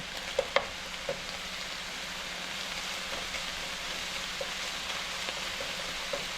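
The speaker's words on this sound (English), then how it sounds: "the next thing to go in here would be now just let's cook the ginger." Ground turkey and ginger frying in a pan, a steady close sizzle with a few sharp pops and light taps of a utensil near the start.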